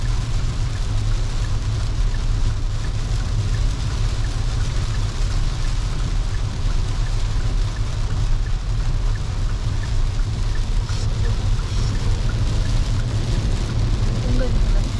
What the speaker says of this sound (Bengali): ভারী বৃষ্টি তো হচ্ছে এখানে।